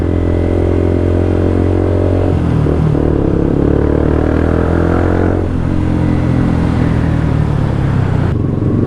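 A tuned Yamaha R15 v2 motorcycle engine revs loudly and close, a steady buzzing drone that rises and falls as the throttle is blipped, with no talking.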